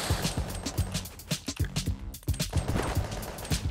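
Rapid gunfire in the PC game Dope Trashcanners strikes grass, dense bursts of close, sharp shots with brief pauses, loud and alone.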